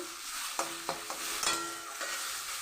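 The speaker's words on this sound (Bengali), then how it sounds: "তো চলুন এটাকে এবারে নেড়ে চেড়ে নেবো" A spiced grated mixture with turmeric and chilli powder is stirred in a frying pan, a spoon scraping the pan in a few distinct strokes over a soft, steady sizzle, close and fairly quiet.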